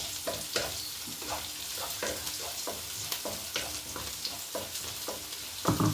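Ground masala paste sizzles in a hot pan while a spoon stirs it in repeated scraping strokes, the frying hiss steady underneath for a coriander leaf rice dish, with a louder clatter at the end.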